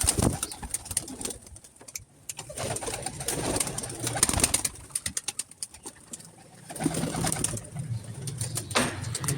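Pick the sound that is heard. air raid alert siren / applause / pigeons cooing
pigeons cooing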